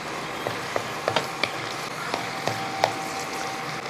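Dried red chillies frying in hot coconut oil for a Kerala-style chammanthi, a steady close sizzle broken by scattered small crackles and pops.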